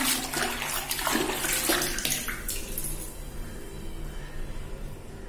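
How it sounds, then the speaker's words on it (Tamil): Water sloshing and splashing as hands mix fruit peel into a bucket of bathing water, loud at first with bright splashes, then settling into a softer steady swirl, close by with no voices. "தண்ணியை நல்லா கலந்து விட்டுருங்க"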